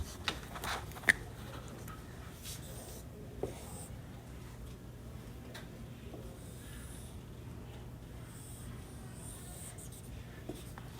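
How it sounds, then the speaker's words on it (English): A pen sketches a graph on paper in a precalculus lesson, giving faint, soft scratching strokes with a few light taps over a steady low room hum. "Oh, I forgot to sketch the last one."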